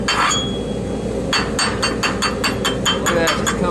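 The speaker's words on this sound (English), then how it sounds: "To chip the weld and see if we did any good." Hammer chipping slag off a heavy flux-core dual-shield weld: a quick run of close, bright metallic raps in a steady rhythm, following a brief quieter stretch of shop noise.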